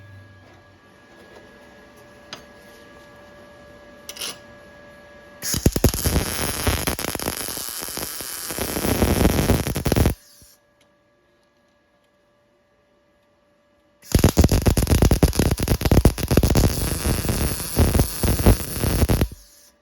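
Flux-core welding on homemade DIY table clamps with a Harbor Freight Titanium welder, two sustained bursts of harsh, crackling arc noise, loud and close, separated by a quiet pause with a faint steady hum.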